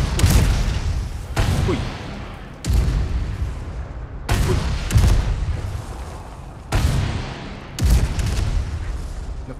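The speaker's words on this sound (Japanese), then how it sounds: "ものすごいなんか爆発が二重で起こるタイミングとかあるんやけど" Heavy explosions and gunfire in the Resident Evil 4 Remake video game: repeated loud booming blasts every second or two with rumbling tails, dense and close, and a voice briefly calling out over the barrage.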